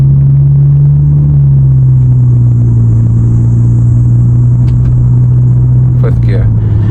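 An Audi in manual mode hums along with a steady low engine drone and road rumble. Small pitch steps suggest gear changes made with the paddle shifters, and the sound is loud and continuous from inside the cabin.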